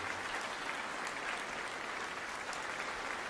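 A church congregation applauds in a steady, continuous wash of clapping from many hands, fairly distant and even throughout with no voices standing out.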